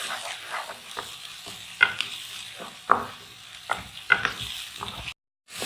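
Masala for chicken chana karahi frying in oil while being stirred: a steady sizzle broken by sharp scraping clicks of a spoon against the pan every second or so, close and moderately loud, with no voices.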